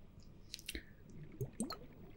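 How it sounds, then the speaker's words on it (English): Soft, close drips and wet squishy pops from ice globes, a few scattered watery plinks in a quiet space. "while providing some sounds of ice globes dripping bubbles in your ears"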